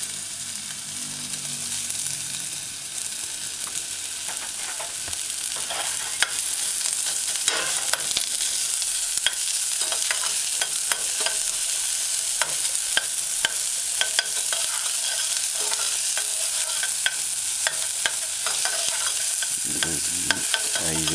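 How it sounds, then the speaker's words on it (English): Sliced onions sauteing in a little oil, a continuous close sizzle broken by frequent scraping spoon strokes as they are stirred for a vegan broccoli coconut stew. "Add sliced onions to the heating oil"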